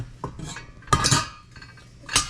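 Metal hooks of a hand-cranked food mill clink against the side of a cooking pot while making grape jelly, three short bright metallic clatters with brief gaps between them.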